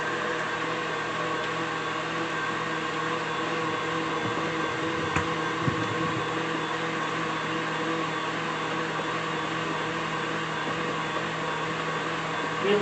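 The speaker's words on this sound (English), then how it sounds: "I'm just going to mix this up really good. Get this just real creamy." Cookie dough with eggs and vanilla beaten in a bowl until creamy, a steady electric mixer whir droning evenly throughout with only faint clinks.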